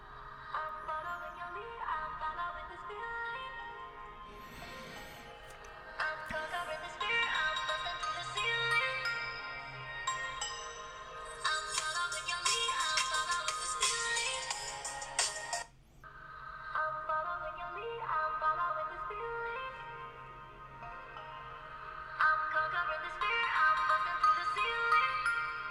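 Loud, bright music plays from a Redmi K30 (Poco X2) phone loudspeaker at maximum volume, a ringtone-like melody running continuously with a brief dip partway through.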